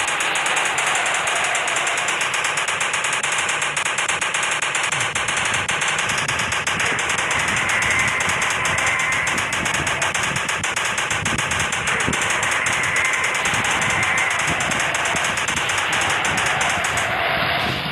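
Rapid machine gun fire at dinosaurs in the Indian Bike Driving 3D video game, a loud, dense and unbroken rattle of shots with an engine-like rumble underneath.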